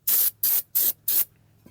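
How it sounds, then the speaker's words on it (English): Brake parts cleaner is sprayed inside the brake rotor of a 2013 Ford F-250 Super Duty during a pad replacement: four short, evenly spaced aerosol hisses, close and clear, with no talking. "and I'm going to spray inside the rotor."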